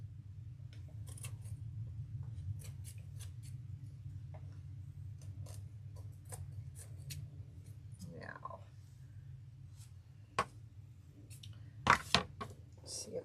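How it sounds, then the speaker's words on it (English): Scissors trim the overhanging edges of a rustic craft angel door hanger, with scattered crisp snips and clicks over a steady low hum, growing sharper and louder near the end. "And then I'm gonna trim the edges that are hanging over the threads."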